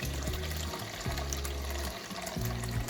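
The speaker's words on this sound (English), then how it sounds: "So I'm going to start out by putting water in the crock pot." Eight cups of water are poured into a crock pot, giving a close, gurgling, hollow pour that falls in three separate glugging bursts.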